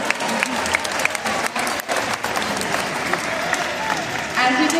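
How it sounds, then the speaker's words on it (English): Audience at a SeaWorld killer whale show breaks into steady, dense applause and cheering close by, filling the whole stretch with continuous clapping and crowd noise. "How about a round of applause"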